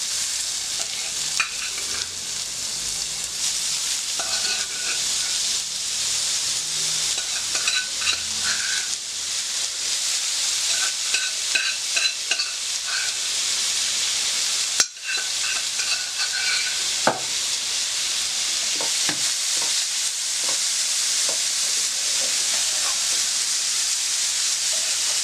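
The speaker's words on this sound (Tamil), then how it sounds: "இப்போ நம்ம கோஸ் கொண்டக்கடலை போட்டு இதில் நல்லா பிரட்டலாம்." Cabbage and black chickpeas with softened onion being stir-fried in a pan, a steady close sizzle with scraping and stirring clatter throughout, no voices.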